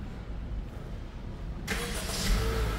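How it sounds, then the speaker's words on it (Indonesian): A Honda City GN2 facelift sedan's engine cranks and catches after a quiet moment, then settles into a smooth, close idle that continues to the end. "ketika mesin dinyalakan"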